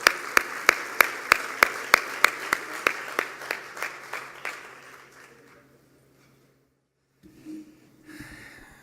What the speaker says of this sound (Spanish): Recibimos a Javier Treviño con un aplauso de parte de todos ustedes.